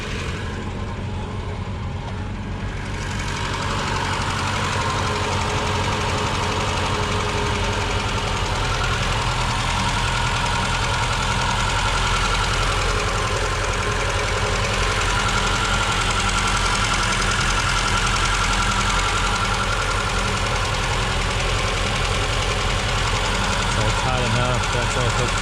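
A vintage 1968 BMW 1602 engine runs steadily with a rough, uneven knock from a misfiring cylinder, loud and close, with people talking over it throughout.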